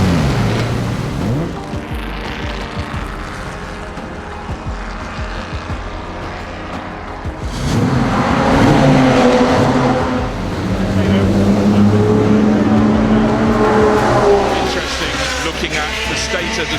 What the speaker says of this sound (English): you see the first car round, which is the number 33 Kinrara E-Type